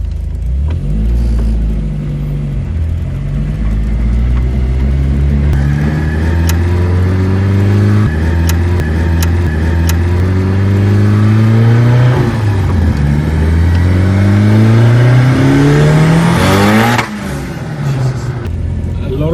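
A classic Ford Cortina with a turbocharged Mazda FE engine of about 300 hp cruises through Pretoria North, its engine droning loudly and rising and falling through gear changes, with a brief burst of acceleration near the end.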